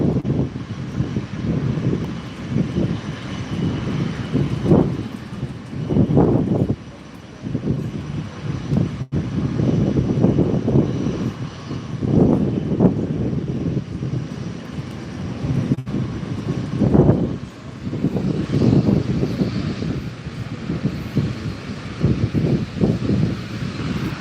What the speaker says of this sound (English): There's a Canary Fly ATR 72 just about to push back now. And again, I think they're going to do a power back on stand.